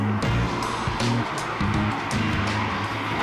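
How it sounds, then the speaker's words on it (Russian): Road traffic passing below a hotel balcony in Incekum, Alanya, Turkey, heard as a steady, loud wash of car noise with no breaks and no one talking. "номер выходит окнами на дорогу, здесь проходит трасса, ездят машины, поэтому получается громко"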